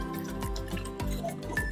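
A little water from a masala jar is poured into chicken for a dry chicken karahi, giving short trickling, dripping splashes with light clinks, close and fairly quiet.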